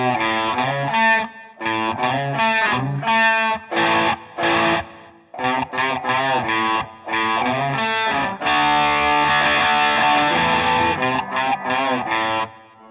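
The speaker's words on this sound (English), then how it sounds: "let's hit it with a little distortion here." A cheap Monoprice Indio electric guitar played through distortion, with loud chords and riffs broken by short pauses, then ringing out in a sustained, dense distorted passage toward the end.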